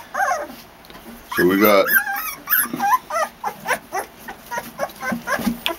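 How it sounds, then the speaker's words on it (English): Two-week-old pit bull puppies make short growls and whimpering yips close by, mixed in with a person talking over them. "We're growling already at 2 weeks old."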